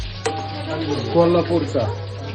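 Kolhapuri red masala fries in a large kadai with a steady close sizzle and some stirring, while a person speaks briefly over the cooking.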